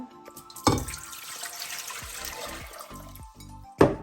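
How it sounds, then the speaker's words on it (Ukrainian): Water being poured into jars of pepper for a marinade, a close, steady splashing pour with sharper bursts at the start and end, no talking. "тепер робимо маринад. Водичка"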